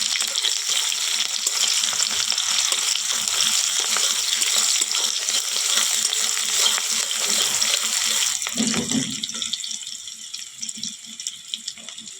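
Chopped onion dropped into hot oil in a pan, a loud, continuous crackling sizzle that dominates for most of the time, then eases into a quieter, thinner fry after a brief stirring shuffle near the end.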